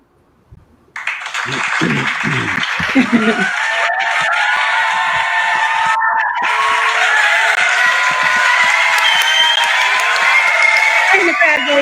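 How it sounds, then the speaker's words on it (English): Loud crowd applause and cheering erupt after a spoken-word poetry performance, building within the first second and holding as a dense, sustained roar with whoops and screams to the end. "And the crowd goes wild."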